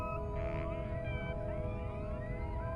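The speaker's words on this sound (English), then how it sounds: "This is probably a whale." Underwater whale or orca calls, faint sweeping whistles and tonal moans, rise over a steady hiss and low rumble of water noise, with a persistent mechanical hum in the background.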